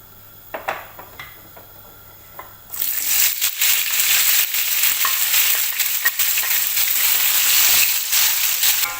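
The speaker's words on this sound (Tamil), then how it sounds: "நம்ம எடுத்து வச்சிருக்கிற வெங்காயத்தை சேர்த்துடலாம்" Onions dropped into hot oil for Saudi kabsa burst into a loud, continuous sizzle after a few quiet clinks, crackling steadily to the end.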